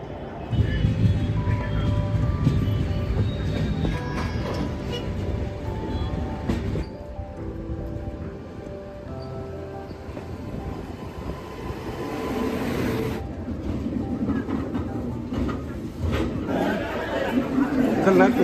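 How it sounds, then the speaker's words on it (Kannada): A Nagpur metro train runs loud and close throughout, a steady rumble and rolling roar with a surge near the middle, while people chatter under it. "This is the Nagpur metro."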